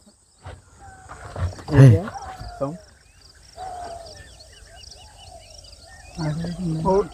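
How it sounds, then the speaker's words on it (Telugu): A sambar deer calls from within India's largest tiger reserve during a jeep safari: several loud, drawn-out, honking calls rise and fall amid quiet forest insects, the loudest near the middle and another burst at the end. "सांबर डियर, उसका साउंड है"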